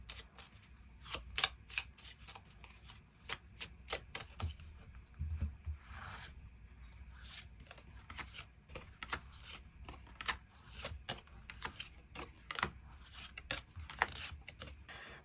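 Tarot cards are shuffled and drawn up close, soft repeated riffling and sliding with sharp flicks and taps at an uneven rhythm, no voice present.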